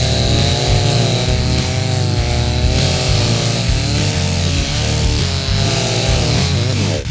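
A loud, steady engine drone with a rough buzzing whine runs continuously as an ice-coated chainsaw idles and cuts through ice, close by throughout.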